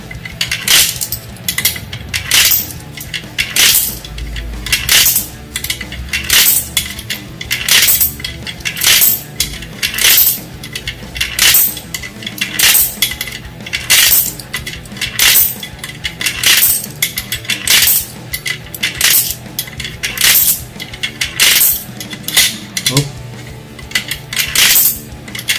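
Coins drop one after another into a universal coin slot machine, a steady run of sharp metallic clinks and rattles, loud and close with no talking.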